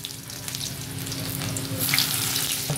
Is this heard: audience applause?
no